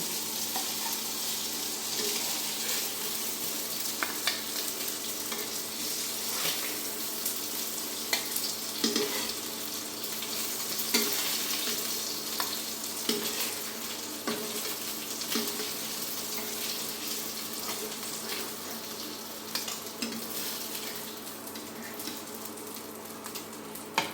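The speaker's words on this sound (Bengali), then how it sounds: "এখন মাছগুলি ভাজা হয়ে গেছে" Continuous sizzling of katla fish frying in oil, with occasional clicks and scraping, close by and without any talking.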